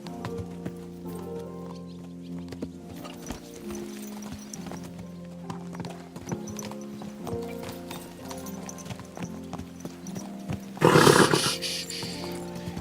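Horse hooves clip-clop at a steady walking rhythm in the video game Kingdom Come: Deliverance 2, fairly quiet against a background of music, with a louder broadband burst near the end.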